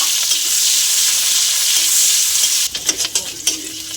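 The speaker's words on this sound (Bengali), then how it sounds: "তো আমাদের পেঁয়াজটা ভাজা ভাজা হয়ে গেছে।" Onions frying in oil with cardamom, cinnamon and bay leaf in a wok, a loud steady close sizzle that breaks into stirring scrapes and clatters near the end, with no talking.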